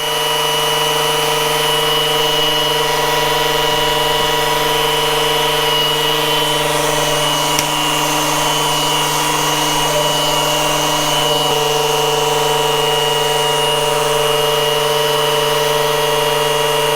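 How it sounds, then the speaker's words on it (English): A power drill whines steadily at high speed, priming the oil pump of a small-block Chevy engine, a constant droning motor tone with a low hum underneath, unbroken throughout. "this drill's got a good ump to it"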